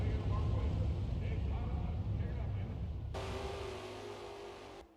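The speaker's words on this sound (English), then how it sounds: "The engines are firing off. The cars are getting underway, going behind the Pontiac Grand Prix pace car." Stock car engines fire up and rumble in NASCAR Racing 2003 at Charlotte Motor Speedway as the field rolls off behind a Pontiac Grand Prix pace car: a loud, dense, continuous engine roar that thins out and fades near the end.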